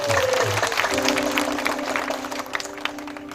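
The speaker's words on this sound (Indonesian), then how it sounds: "Tepuk tangan untuk Tuhan." Crowd at a Democratic Party gathering in South Sorong applauds, a brief wash of clapping under a sustained musical tone, fading toward the end.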